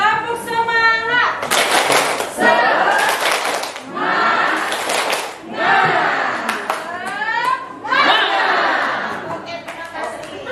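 A group in a positive-culture school session does rhythmic spirit clapping in patterned bursts, loud and close, alternating with chanted voices and shouts between the clap sequences.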